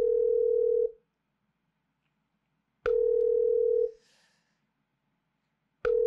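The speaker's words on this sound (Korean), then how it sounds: "자 한번 전화 연결 한번 해보겠습니다" Telephone ringback tone heard while a call is being placed: a steady tone sounds alone for about a second, then after a two-second silence repeats, with the start of a third, clear and fairly loud.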